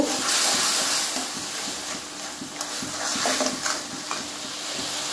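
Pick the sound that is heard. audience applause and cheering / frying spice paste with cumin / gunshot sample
frying spice paste with cumin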